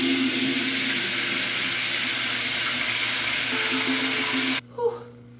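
A steady rush of hot tap water pours into a bathroom sink, then cuts off abruptly near the end, leaving a brief quiet splash.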